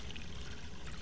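Water runs steadily in the game Hello Neighbor, a faint continuous pouring stream heard alone.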